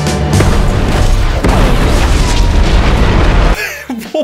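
A loud, sustained explosion from the film Army of the Dead roars and rumbles for several seconds, then cuts off abruptly to quieter film sound.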